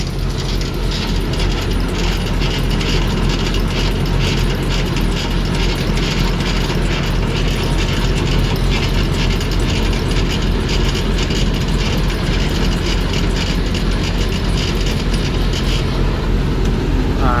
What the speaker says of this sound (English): it's just easier to go ahead and swing, lower the gear while it's out here in front of the next trailer